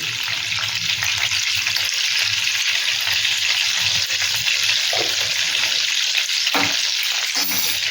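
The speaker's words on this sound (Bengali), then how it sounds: "নুন দিয়ে একদম লো ফ্লেমে এগুলোকে ভেজে নেব, কালার হওয়া পর্যন্ত এটাকে ভেজে নেব।" Eggs with salt fry on a low flame, giving a steady, dense sizzle that runs throughout, with a few faint clinks of a utensil near the end and no talking.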